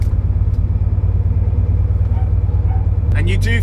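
Porsche 912 classic car with its engine running while driving, a steady low rumble that continues throughout, a brief shift in tone near the end.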